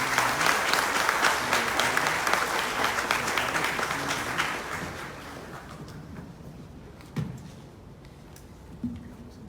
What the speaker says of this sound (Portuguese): En este momento le damos un aplauso y la bienvenida a nuestro hermano.